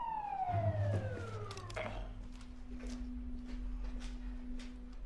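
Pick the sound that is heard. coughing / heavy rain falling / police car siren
police car siren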